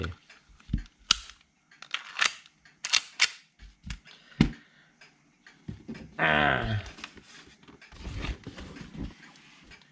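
A WE M1911 A1 BB pistol, just repaired for a sticking piston, test-fired in a string of sharp close shots with short uneven pauses, followed by a brief mechanical rattle and clicks.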